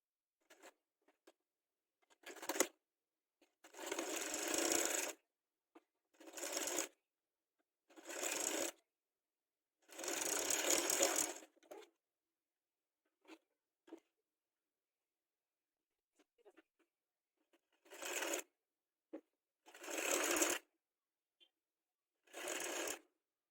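A sewing machine stitches cord-filled piping onto a zip suit, running in about eight separate bursts of a few seconds each, with quiet pauses and faint fabric handling between them.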